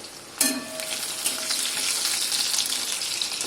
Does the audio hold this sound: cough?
no